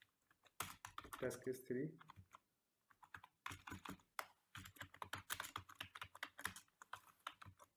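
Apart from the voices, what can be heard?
typing on a computer keyboard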